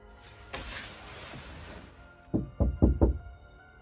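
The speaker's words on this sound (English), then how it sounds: "There was definitely a knock." Four sharp knocks in quick succession on a parked van in the dead of night, loud and close after a quieter stretch of rustling background noise, with no voices.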